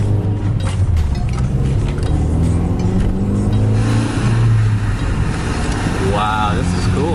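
Cars tear past on a Grand Prix-style track setup, engines revving loud and continuous with a rising roar, while people talk over the noise.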